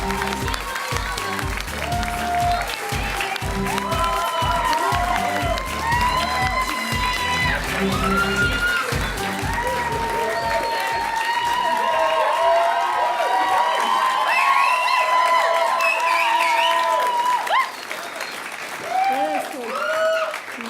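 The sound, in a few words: audience applause at an awards ceremony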